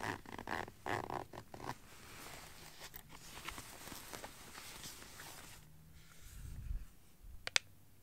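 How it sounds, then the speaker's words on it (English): Quiet rustling and a few quick zipping and clicking sounds of a jacket pocket zipper being handled up close, ending with a sharp click. "Inside this zipper pocket,"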